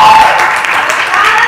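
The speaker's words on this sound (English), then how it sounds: "Please put your hands together for her." Audience applause at an awards ceremony as a presenter is invited on stage, a loud steady wash of clapping filling the whole moment.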